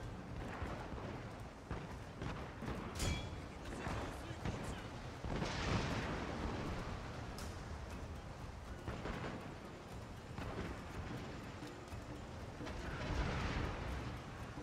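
Gunfire barrages in a naval battle video game set at the Battles of Kizugawaguchi, with rolling booms and crackling volleys layered under battle ambience, mid-distance and fairly muffled, with a voice speaking over it.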